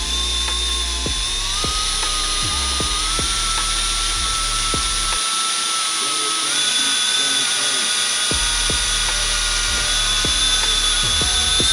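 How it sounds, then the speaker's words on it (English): Power drill boring into the metal chassis of a Honda Civic, a steady high whine running throughout with faint clicks and speech underneath. "So now I'm gonna grab the drill bit and start drilling into the chassis there."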